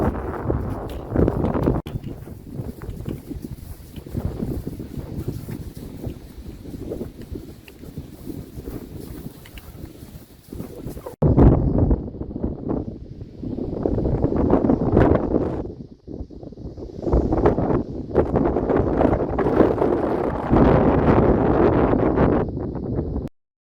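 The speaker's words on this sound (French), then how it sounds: "Le vent s'est levé, il est assez fort." Strong wind buffets the microphone in rough, roaring gusts that rise and fall, with a brief lull midway before the blustering returns.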